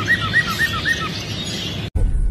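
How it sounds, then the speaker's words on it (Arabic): An ornamental songbird sings from its cage: a run of four or five bright, quick chirped phrases close by, then a noisy break, with no voices. "هي والقفص تغريد مالتها كلش حلو تقلد الاصوات."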